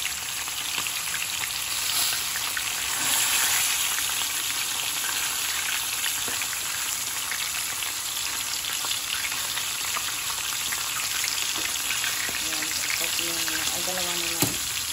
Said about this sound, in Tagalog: Okay na yung ating pritong isda